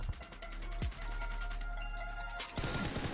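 Rapid gunfire in the battle royale game PUBG, loud close bursts of rattling shots with short breaks between volleys and a sharper blast near the end.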